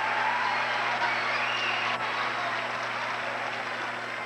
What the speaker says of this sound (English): Another factor could be the McNary crowd. They're starting to come to life.